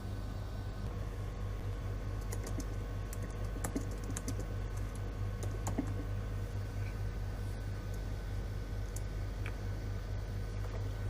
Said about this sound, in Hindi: यहाँ पे मैं नया क्वेश्चन टाइप कर सकता हूँ।